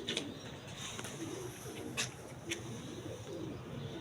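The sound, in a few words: pigeons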